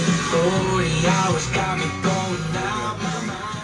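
Country music with a steady beat and sung melody plays from an RV stereo radio, full and fairly loud, with no talking over it.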